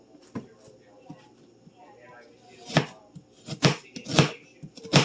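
A knife mincing food on a cutting board: scattered sharp chopping taps that come quicker and louder near the end, with muffled talk in the background.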